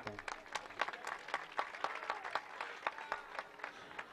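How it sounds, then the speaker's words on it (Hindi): Applause from the audience at an all-India mushaira poetry gathering in Jahanaganj, Azamgarh, heard as a moderately faint spread of individual claps with some crowd murmur underneath. "जोरदार तालियों से इनका इस्तकबाल करें।"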